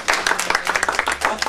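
An audience at a poetry performance claps in a brisk, close burst of distinct individual hand claps, rapid and fairly loud, lasting only a moment.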